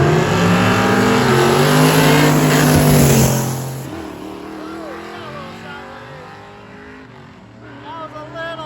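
A turbocharged LS-powered Pontiac wagon roars hard down a drag strip, its loud engine holding a high steady pitch before fading quickly into the distance, with crowd noise and voices around.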